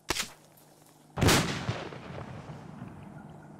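Gunfire in the video game Arma 2: a short sharp shot, then after a pause a much heavier booming blast with a long rumbling decay, close and loud, with no talking.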